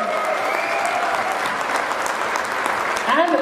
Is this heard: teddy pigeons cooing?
no